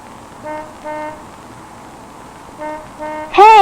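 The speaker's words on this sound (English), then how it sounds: "I think I hear the bus." A bus horn sounds in a few short honks: two paired toots, a pause, then two more, followed by a louder burst at the end, all fairly near over a quiet room.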